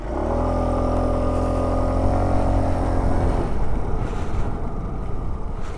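A 2021 Aprilia SXR160 scooter engine runs loud and steady with a sustained harmonic hum, then turns rougher and more broadband as it revs up and pulls away, with no talk over it.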